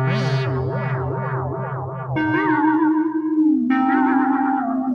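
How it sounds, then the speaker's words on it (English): Arturia MicroFreak synthesizer played through an analog delay with delay time controlled by pressure: loud wobbling, warbling pitch sweeps and bent tones with echoing repeats, shifting between notes, no talking. "you can hear me playing with the analog delay, delay time from pressure of this."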